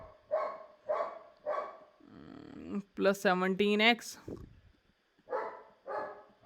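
A dog barks repeatedly in evenly spaced single woofs, moderately close, pausing while someone talks over a stretch in the middle before the barking resumes.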